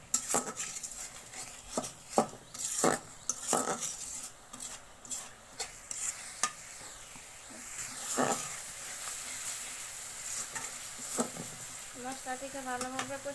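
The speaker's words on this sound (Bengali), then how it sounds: "দিয়ে মশলাটাকে ভালোভাবে কষিয়ে নেব।" Spices with turmeric powder and salt frying in a pan while being stirred: repeated clanks and scrapes of a spoon against the metal over a soft sizzle, loud at first then settling into quieter frying, with some faint background noise.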